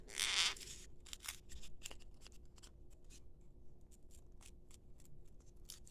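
Scissors snip through a sack while making a cat-ear beanie hat, a burst of crisp cuts at first and then sparse, quiet clips and rustles, close by with no talk.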